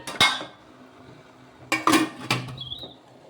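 Idli plates clink into a steamer pot and a metal lid settles on top, giving a few sharp, close clatters in quick bursts with a brief ringing tone at the end.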